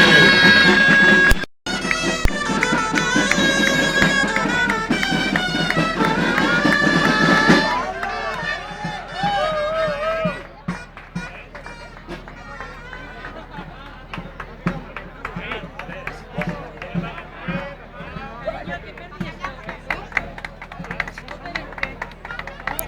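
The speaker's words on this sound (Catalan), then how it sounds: "Un fort aplaudiment per a ell." An audience applauds the colla el Nicalet, a performing group at a Catalan-language gathering in Valencia, 2011. Harmonic music fills the first several seconds, then a steady crowd clapping rises with scattered sharp claps and background murmur.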